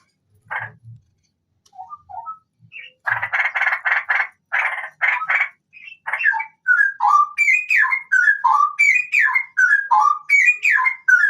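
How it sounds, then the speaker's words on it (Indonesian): Straw-headed bulbul (cucak rowo) chicks at harvest from a breeder's nest, close and loud, starting with scattered short calls, then a burst of raspy begging, followed by a steady series of rising and falling whistled notes. "hari ini panen burung cucok rowo"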